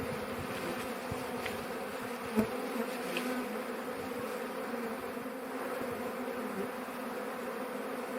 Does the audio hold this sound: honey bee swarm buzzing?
yes